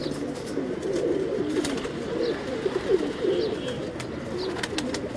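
Pigeons on a rooftop loft in Islamabad coo in overlapping low burbles, a dense steady chorus close by with a few faint clicks and rustles mixed in.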